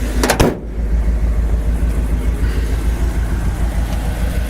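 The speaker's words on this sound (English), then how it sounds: "Engine really sounds good and runs good." A 1959 Ford Retractable in coral and white idles steadily, its engine a low, even rumble with a slight exhaust manifold leak, close and continuous after a brief sharp noise at the start.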